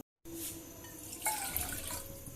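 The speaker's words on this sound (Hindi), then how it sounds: "इसमें मैंने 1 कप पानी डाल दिया।" One cup of water pours steadily into a pot, a soft splashing stream with faint dripping, fairly quiet and close, no voices.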